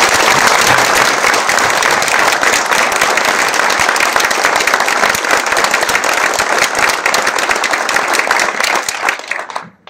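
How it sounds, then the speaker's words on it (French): Loud, dense audience applause at a change-of-command ceremony for a fire and rescue station in Saint-Chély-d'Aubrac, sustained steadily for nearly ten seconds before cutting off abruptly at the end. "Donc vous méritez autant que lui des applaudissements."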